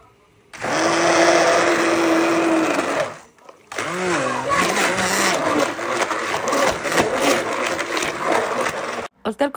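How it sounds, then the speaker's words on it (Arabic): A hand blender whirs loudly in a home kitchen, one steady burst of a few seconds, a short pause, then a longer uneven run with changing pitch as it works through the food, stopping abruptly. "دايما بعتمد على هاند بلندر دلوقتي لحد ما اصلحه"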